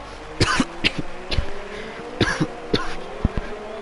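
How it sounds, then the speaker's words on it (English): Several sharp coughs in short bursts, some paired, spread over a few seconds against a low steady background hum. "I have no clue why I always cough."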